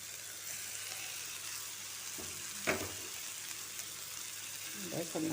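Ginger garlic paste fries with softened onions in a pan for vada curry, making a soft, steady sizzle with a few clinks and stirring scrapes near the middle and end.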